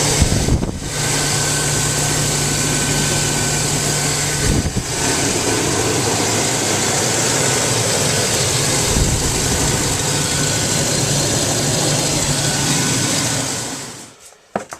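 A Chevy Vortec engine with lifter and valve tap idles close by in a steady, loud drone that runs unbroken for most of the stretch, then cuts off near the end.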